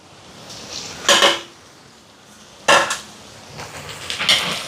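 A spoon scrapes and knocks against a pot twice as tempering and grated coconut are stirred into a vegetable curry, with two sharp clattering bursts and a softer scraping near the end, no talking.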